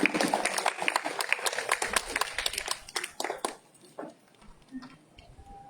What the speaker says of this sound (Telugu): please let us do a good clap